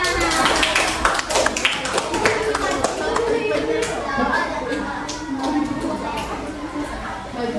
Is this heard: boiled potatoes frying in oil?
no